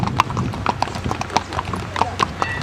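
Horses' hooves clip-clop steadily near Cusco, Peru, in a quick, uneven rhythm of close, distinct strikes on hard ground.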